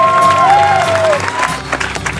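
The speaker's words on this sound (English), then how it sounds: "They deserve a warm round of applause." Audience at a 2011 Cal Poly San Luis Obispo computer science graduation applauds the professors, with brief clapping and a faint cheer under a sustained tonal whistle, fading after about a second.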